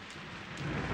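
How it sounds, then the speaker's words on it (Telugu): Heavy rain pours in a dense, steady roar, swelling slightly louder toward the end with no voices present. "బలా వర్షం."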